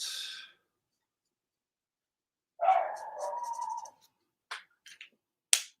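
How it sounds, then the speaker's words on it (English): A dog barks in a few separate bursts, one longer rough bark and then several short sharp yelps. It sounds fairly near with quiet gaps between the barks, and no one talks. "I think that dog would get like a sore throat, wouldn't you, after barking so much?"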